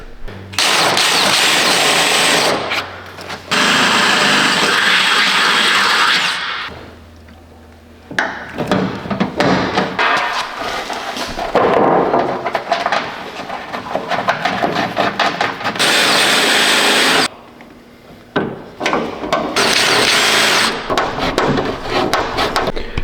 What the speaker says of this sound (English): So we're gonna try and drill this hole here first